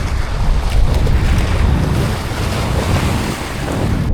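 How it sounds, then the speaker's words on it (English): Strong wind buffets across an open Mississippi River sandbar, a loud, continuous rushing roar with heavy low rumble and gusty swells, with no voices over it. "Kind of windy out here"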